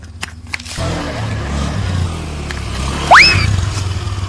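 A motorcycle passes along a narrow village road, its engine note rising and falling at mid distance, with a sharp rising whine near the end over a steady background rumble.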